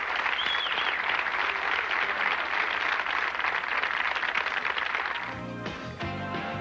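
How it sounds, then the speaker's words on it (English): A final round of applause at the 1987 PBA Southern California Open bowling tournament in Riverside, California, with steady, full clapping from a crowd that cuts off abruptly near the end as music takes over. "How about a final round of applause as we say goodbye from Riverside, California."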